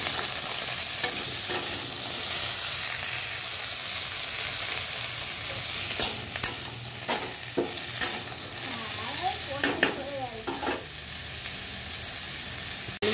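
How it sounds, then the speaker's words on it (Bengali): A steady, hissing sizzle of ridge gourd and tomatoes frying with potatoes in a pan, with a scattering of scraping and clinking stirs near the end. "আলুর মধ্যে দিয়ে দেবো ঝিঙেগুলো আর টমেটোটাও দিয়ে দেবো। তারপরে একটু ভাজবো।"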